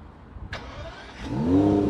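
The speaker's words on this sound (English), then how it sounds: "When you start the car, how it looks." An Aston Martin DB11 AMR starts with a click and a brief starter whir, then fires into a rising, close engine roar that settles toward idle.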